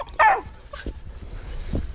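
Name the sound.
12-week-old coon dog puppy barking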